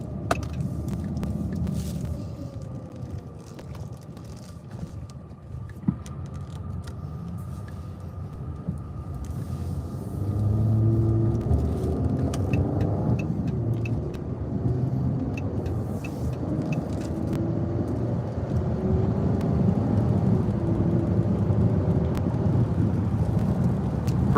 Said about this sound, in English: God damn, I hit the gas a little too hard there.